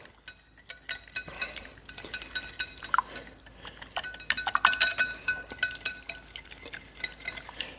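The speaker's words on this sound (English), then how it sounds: "I want to whisk this all together really good, and you have to whisk it pretty hard to get through that honey" Honey rosemary marinade being whisked hard in a bowl, a quick irregular run of close metallic clinks and taps against the bowl, continuing throughout.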